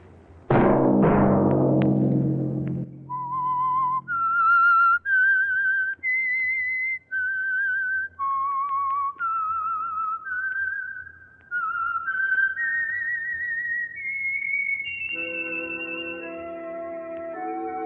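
A clear melodic whistle plays a sequence of sustained notes, preceded by a couple of sharp struck tones, then swells into a held chord at the end, as the signature theme of The Whistler radio drama.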